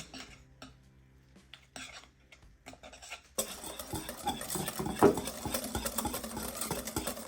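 Oatmeal cookie dough is mixed in a bowl, starting with a few quiet knocks and a low hum, then turning into continuous scraping, clinking stirring up close after a few seconds.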